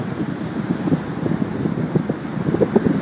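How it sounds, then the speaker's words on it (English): Steady wind buffeting close to the microphone at Laie beach, a low rumbling roar with gusty bumps and no voices. "you may hear the wind blowing past me, but it is really windy up here today"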